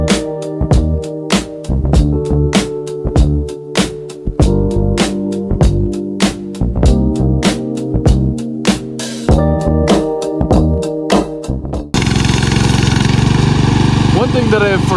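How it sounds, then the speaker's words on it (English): An SDLOOL 750 remote control lawn mower runs steadily with a pulsing, rhythmic engine drone, then shifts to a rougher, denser roar near the end. "this machine does not have a clutch to disengage the blade whenever you start it"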